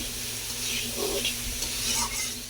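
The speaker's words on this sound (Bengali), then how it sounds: "এই দিয়ে এখন নেড়ে চেড়ে নিচ্ছি" Banana curry with cumin, chili and mustard paste is stirred in a hot pan, a soft continuous sizzle with light scraping strokes, close and fairly quiet over a brief moment.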